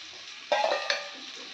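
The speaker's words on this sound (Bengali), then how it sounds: "এখানে আমি এবারে সেদ্ধ করা আলুটা দিয়ে দেব।" Boiled potato filling stirred and fried in a pan for aloo paratha, with a short burst of sizzling and scraping stirs midway over a low steady background.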